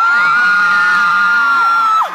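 Fans at a mall tour event for The Mortal Instruments scream and cheer loudly and steadily, a dense crowd roar with high shrieks sustained throughout before tapering off at the end.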